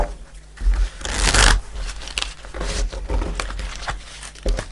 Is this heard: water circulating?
no